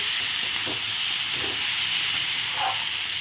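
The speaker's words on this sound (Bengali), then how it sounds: "আমি এখন ঢাকাটা তুলে নেব এখন সবজিটা আমি একটু ভালো করে নেড়ে দেব" Mixed vegetables stirred in a hot pan after the lid is lifted, giving a steady loud steamy hiss and sizzle with a few soft scraping stirs close by.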